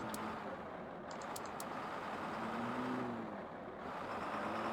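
A truck engine in Farming Simulator 15 hums faintly and evenly as it drives, a low, quiet drone with small pitch drifts and no voices.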